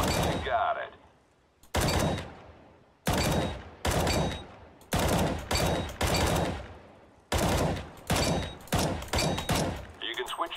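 Rifle fire in short bursts in the CS:GO video game, loud clusters of rapid shots separated by brief pauses, repeating across the scene with a short game voice cue at the end.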